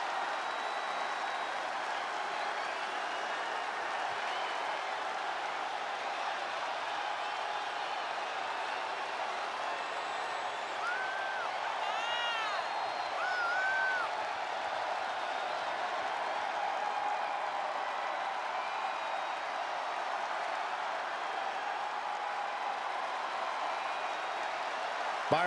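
An arena crowd in WWE 2K20 keeps up a steady roar of cheering and applause for a women's triple threat match, with a few whistles rising above the dense, unbroken wash of noise.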